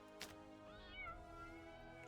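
A cat meows a few times in a quiet indoor setting, soft to moderate rising and falling calls with no talking over them.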